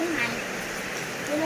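Heavy rain pours down during a storm in Laos, a dense steady hiss of rainfall throughout, with a voice faintly present beneath it.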